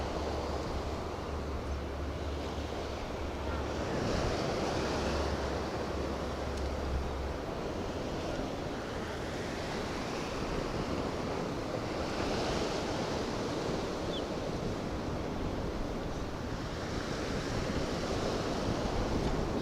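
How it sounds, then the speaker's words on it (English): Steady wind rushes by the sea during a fishing trip, a broad constant roar mixed with surf that swells gently now and then, with no voices. "It's a bit breezy."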